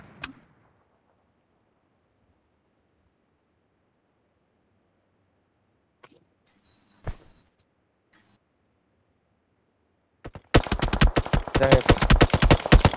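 Gunfire in the mobile shooter PUBG Mobile: a few isolated shots break a long near-silence, then a loud, rapid automatic burst fires continuously to the end, with no voices.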